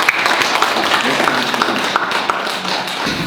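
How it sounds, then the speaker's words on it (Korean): Steady, dense applause from a congregation at a Korean Catholic Mass installing a new regional superior, loud and continuous throughout, with a voice faintly beneath it. "우리 박수로 한번 그죠?"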